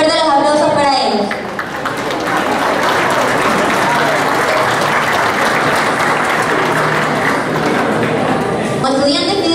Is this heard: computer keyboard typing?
no